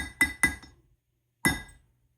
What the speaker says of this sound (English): I'm going to prick punch that